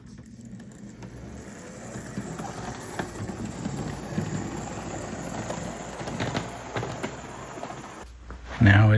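A model railroad locomotive runs on a DC-block wired layout, giving a steady rolling rumble with scattered light clicks for most of the stretch before a louder thump at the end.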